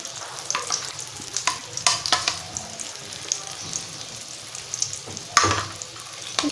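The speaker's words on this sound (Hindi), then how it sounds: "अब ये एक तरफ से फ्राई हो, इतना मैं इसका बैटर दूसरी तरफ भी डाल दूँगी।" Bread coated in batter fries on a hot tawa with a soft, crackly sizzle, close by and moderately loud, broken by occasional sharper pops and scraping stirs.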